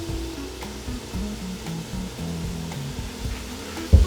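Mushroom curry with fresh coriander being stirred in a hot pan gives off a soft, steady sizzle with light scraping, ending in a brief louder clunk.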